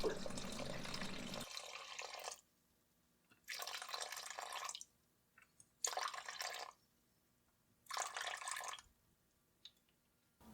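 Water poured in intermittent bursts into a bowl on a scale for sourdough bread dough, about four separate pours of a few seconds each with quiet gaps between, close and clear with no talking.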